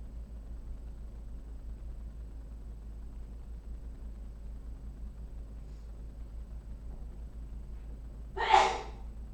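A single short sneeze near the end, fairly close and clear, after a long stretch of quiet background hum.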